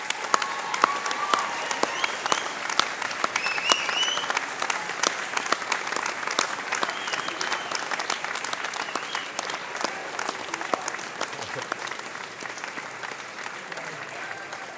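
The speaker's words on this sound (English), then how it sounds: "turn round and through applause, show your appreciation for those behind and above you who've supported you through your university career" A large graduation ceremony audience claps in a dense, sustained ovation that stays loud and even throughout.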